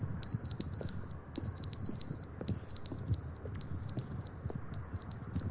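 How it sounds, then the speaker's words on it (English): Electronic beeping in the video game The Stanley Parable: a repeating pattern of short high double-tone bleeps in evenly spaced bursts, clear and steady over a faint low background hum. "I don't know what that beeping is."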